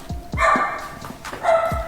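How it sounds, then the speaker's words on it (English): Dogs bark somewhere in a home kitchen, several sharp, moderately loud woofs in quick succession at a short distance. "that's a dog, or the dogs."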